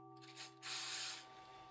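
Short bursts of aerosol leather dye spray, one brief puff followed by a longer steady hiss lasting about half a second, close to the microphone, while a trifold leather wallet is dyed, with a faint steady electrical hum underneath.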